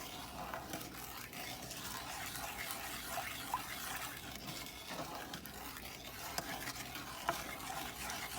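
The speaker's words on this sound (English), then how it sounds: "you just want to make sure you keep stirring it so it won't stick to the bottom" Caramel sauce stirred in a pan over medium heat, a soft, continuous bubbling hiss with gentle swishing and occasional faint clicks of the utensil, quiet and steady.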